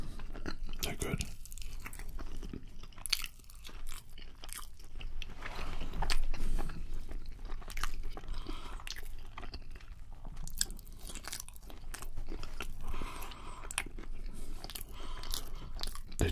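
Close, crisp crunching and chewing of seasoned Taco Bell chips, with repeated snapping bites and moist mastication throughout, intimate and steady, and occasional soft speech.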